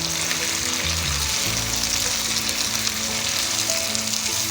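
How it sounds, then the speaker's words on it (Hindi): Potatoes fry with tomato paste in a pan, giving a steady close sizzle and crackle that carries on evenly throughout with no voices. "अच्छी तरह से हम फ्राई कर रहे हैं।"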